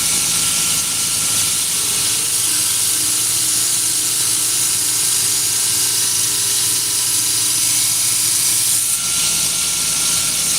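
A knife bevel ground on a grinder makes a steady, loud broadband hiss and whir with a faint tonal hum, continuous throughout with no talk.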